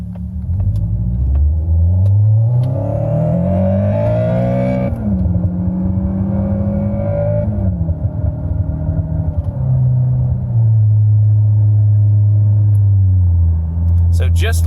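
Inside a Toyota Camry, a phone app plays a fake V8 engine note that follows the RPM, giving a loud, boomy rumble that rises and sweeps upward, then settles into a steady low drone.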